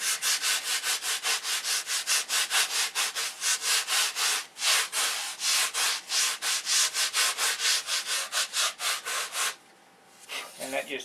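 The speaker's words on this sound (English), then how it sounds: "We're going to take the 30-inch sanding bar" A 30-inch sanding bar is rubbed with long, steady back-and-forth strokes across flaps, giving a loud, even rhythmic rasp that runs without pause for about nine seconds before it briefly stops.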